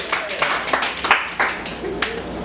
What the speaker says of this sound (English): Clap for if you drove here tonight